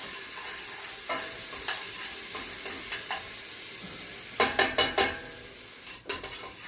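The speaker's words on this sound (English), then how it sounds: "we're going to saute this onion just until it begins to soften" Onion sautés in a pan as the base of an Italian braised goat ragù, giving a steady close sizzle with a quick cluster of four light utensil taps near the end and no voices.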